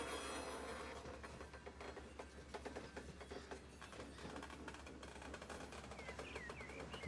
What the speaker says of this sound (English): Hear the wheels eking and creaking.